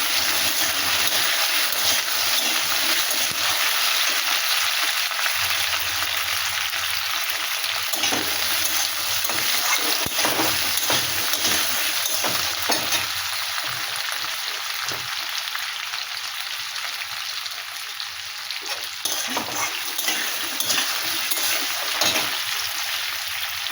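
Taro pieces and onion frying in a pan, a constant hissing sizzle with occasional soft stirring scrapes, close and even throughout, with no one talking.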